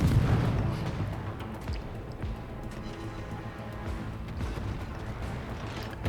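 Warship guns firing in a naval video game: a heavy boom at the start rolls into a continuous low rumble with scattered muffled blasts, distant and without talk.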